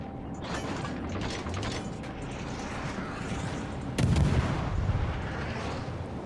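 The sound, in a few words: warship guns firing in video game World of Warships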